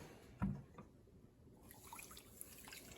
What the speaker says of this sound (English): And then a cup of water.